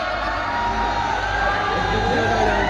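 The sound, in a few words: audience cheering and shouting at a comedy show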